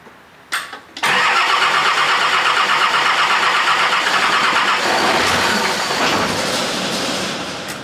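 A rebuilt Nissan TD42 diesel engine cranks briefly, then catches and roars into a loud, steady running clatter that holds close and strong, with no talking.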